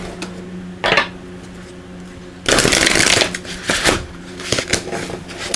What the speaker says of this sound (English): If I can shuffle, there we go.